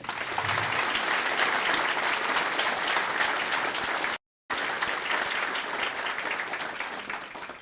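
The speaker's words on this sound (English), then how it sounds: "So please give these students a round of applause." An audience at a high school career center graduation ceremony applauds students with steady, dense clapping, loud and continuous apart from a brief dropout near the middle.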